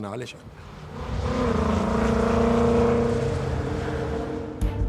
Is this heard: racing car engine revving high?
yes